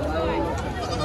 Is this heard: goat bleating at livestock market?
yes